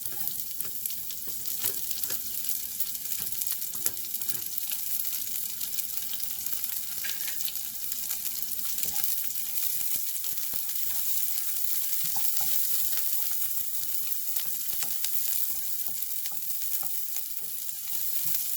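Mustard seeds spluttering and crackling in hot oil, a dense continuous hiss with scattered fine pops held steady throughout, close and fairly quiet with no voices.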